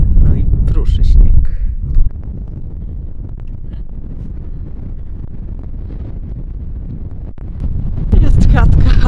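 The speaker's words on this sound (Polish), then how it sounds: "Bardzo wieje, widać to po tym, jak przesuwają się chmury szybko." Strong wind gusting across a snowy Scandinavian mountainside near Abisko and Björkliden, with light snow falling; loud rumbling buffets hit the microphone at the start and end, with a steadier windy roar between, and some speech mixed in.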